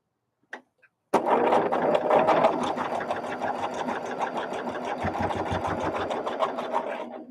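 A domestic sewing machine stitches quilt blocks in one loud, steady run of rapid needle clatter lasting several seconds, preceded by a couple of faint clicks and a brief pause before the motor starts.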